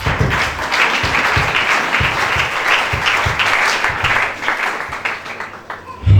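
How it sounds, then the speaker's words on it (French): A church congregation applauds together, a steady, loud wash of clapping that runs without a break and thins slightly at the end, with faint voices underneath. "Acclamons pour Jésus."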